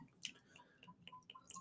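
A drink poured from a brand-new container comes through as quiet, irregular drips and small splashes, close by, with no voices.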